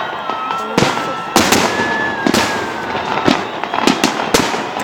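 City day salute fireworks boom repeatedly in loud, irregular bursts, about eight sharp explosions with crackling between them, echoing across an open outdoor space with faint crowd murmur.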